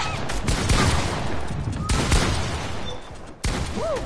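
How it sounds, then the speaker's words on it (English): Rapid video game gunfire crackles in dense bursts, with sharp loud shots piling up over a steady hum of game noise and brief breaks between volleys. "What are you shooting, bro?"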